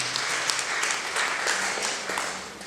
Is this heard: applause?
yes